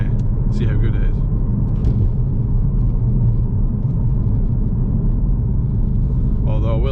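A modified Ford Focus RS accelerates hard along a bypass, heard as a loud, continuous low engine rumble and road roar from inside the car, with faint voice sounds briefly on top.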